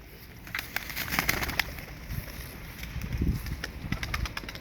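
A pale grey-white sarıkır pigeon coos in low rumbling bursts nearby, with a few brief wing flutters and soft bumps around it.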